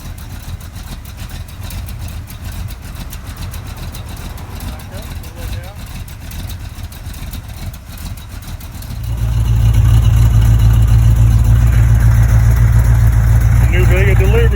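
A V8-swapped 1971 Chevrolet Vega sits idling with a lumpy, loping rumble and then revs up sharply into a loud, sustained growl, with people talking under the engine.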